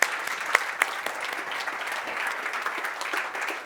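An audience claps together in a short, even round of applause after a panel of AI founders, fairly loud and steady throughout, with a few sharper individual claps at the start.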